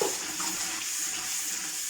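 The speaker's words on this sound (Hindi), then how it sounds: "पानी डाल दिया।" Water poured into a cooking pot while rice is being made, a steady broadband hiss of flowing liquid close by, continuous for the whole two seconds with no talking.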